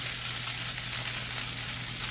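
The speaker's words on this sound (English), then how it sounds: "You can hear the sizzle" Steady, close sizzling of grated Yukon Gold potato rosti frying in a hot pan, a dense continuous crackle with a faint low hum beneath.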